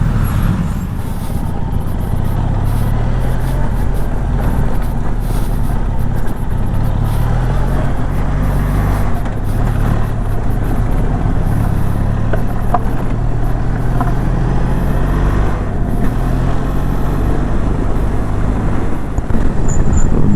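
Road traffic in the Nepali city of Hetauda rumbles as a steady, loud wash of car, truck and bus engines, with low engine drone and passing vehicles blending together without pause.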